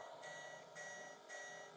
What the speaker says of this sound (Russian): Чё ты пищишь так?